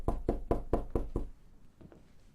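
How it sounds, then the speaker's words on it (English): Door knocking in the video game This Is the Police 2: six firm, evenly spaced raps in quick succession, then a couple of fainter taps, heard alone and fairly close. "Oh, they're knocking."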